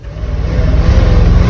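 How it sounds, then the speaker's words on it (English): An old 3-ton grain truck engine held at high revs against the rev limiter, a loud, close, rough droning with a fast stuttering pulse and no talking. "What's that sound? Rev limiter."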